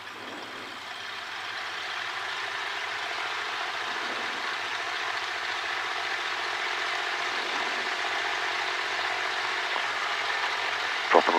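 A light aircraft engine holds a steady run-up at 1800 RPM before takeoff, a continuous, even drone that stays close and fairly loud throughout, with no talk over it.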